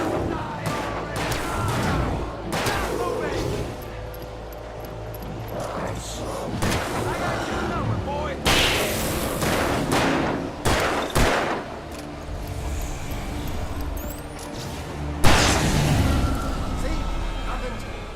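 Repeated gunfire in Alan Wake Remastered on PS5, bursts and loud shots spread through the stretch with booming blasts, played under game ambience and voices.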